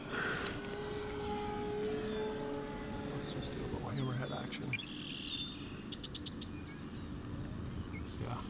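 E-flite Super Timber 1.7 m RC airplane on a 6S battery flies overhead with a steady faint electric motor drone, birds chirping and people talking in the background.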